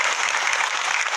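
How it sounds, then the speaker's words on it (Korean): A brief, dense burst of crowd applause at a women workers' discussion gathering, steady and full from start to end. "박수 한번 드릴까요?"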